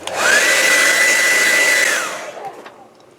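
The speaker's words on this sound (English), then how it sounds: "For sake of the video, I'm just going to dry it really quick." A hair dryer blows steadily and close-up for about two seconds to dry a wet miniature bo staff made for a 6-7 inch action figure, then winds down and fades.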